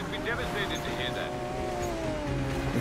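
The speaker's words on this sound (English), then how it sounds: "We're off-roading in an Aventador" A Lamborghini Aventador engine drones steadily while off-roading in the Need for Speed Payback video game, a continuous close hum with slight shifts in pitch and no clear revving peaks.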